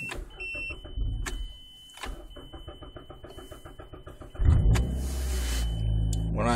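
Manual-transmission car, parked in reverse, cranking over and catching with a short starter whir that settles into a steady engine idle, close and moderately loud, preceded by faint clicks and a soft electronic beep.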